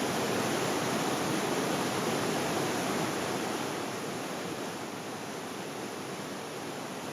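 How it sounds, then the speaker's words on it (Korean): A steady, dense roar of a waterfall in central Oslo, Norway, pours continuously, loud and close, with no other sounds standing out. "아니 어떻게 도심 한가운데 이런 폭포가 있어?"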